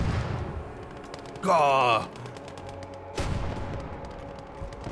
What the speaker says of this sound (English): The sound of that field artillery is so loud.